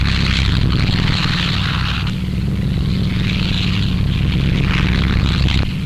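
Mitchell bombers flying in wartime, a dense continuous roar of aircraft engines with a low rumbling drone and broad hiss, loud and steady throughout, no voices.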